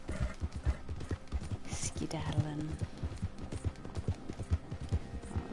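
Horse hooves clip-clop at a steady walking rhythm in a PS4 video game, close and clear, with a brief whinny-like sound midway and someone speaking over the hoofbeats.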